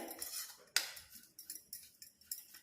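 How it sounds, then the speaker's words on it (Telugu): A spoon clinks and scrapes against a bowl in a series of short, light taps while lemon juice is stirred into a batter for chili bhajji, close but quiet, with no voices. "ఇదంతా కూడా మంచిగా మిక్స్ చేసుకోవాలి"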